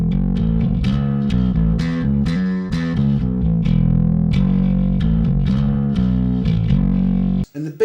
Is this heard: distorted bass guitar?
yes